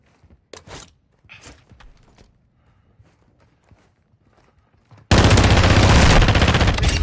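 Video game gunfire: a few isolated sharp shots and soft clatter, then a sudden loud, sustained automatic burst that fills the last two seconds.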